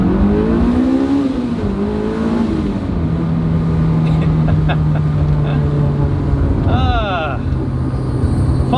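A Honda S2000 engine revs up and climbs in pitch as it comes onto VTEC inside the car, then eases off into a steady cruising hum, with a brief rising whine near the end.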